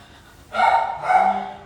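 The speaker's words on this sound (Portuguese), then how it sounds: "Esse latido aí." A dog barks twice, loud and close, two drawn-out barks in quick succession over a quiet background.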